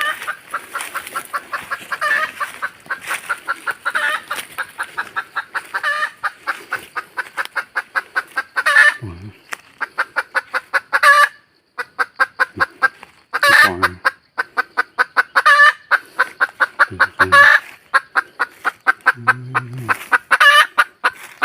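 Hens cluck in quick, rhythmic bursts close by, with a steady run of repeated clucks and a few deeper calls mixed in, continuing without pause throughout.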